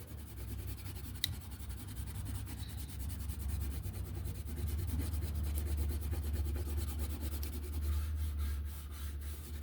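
A colored pencil rubs across a paper coloring page with a soft, continuous scratchy grain and steady back-and-forth strokes, close and quiet, with no talking.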